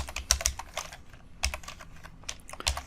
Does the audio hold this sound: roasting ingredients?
no